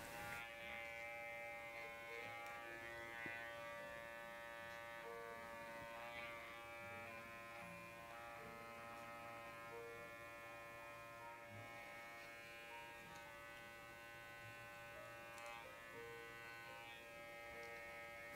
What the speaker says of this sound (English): I start by clipping over the top of the foot. After that, I start going between the toes.